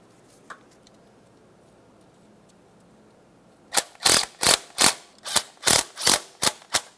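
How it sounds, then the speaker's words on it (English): Ratchet snugging the EGR valve mounting nuts on a 2006-2011 Honda Civic: after a quiet pause, a run of about ten sharp, close clicking ratchet strokes in an even rhythm. "start on each of your two mounting nuts and snug them up"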